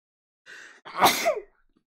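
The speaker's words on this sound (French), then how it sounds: "Donc c'est sur cette news que j'éternue bien entendu" A single sneeze: a short sharp intake of breath, then a loud explosive burst that trails off quickly, heard close up with no talking.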